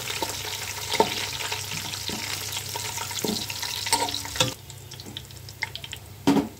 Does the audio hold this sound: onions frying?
yes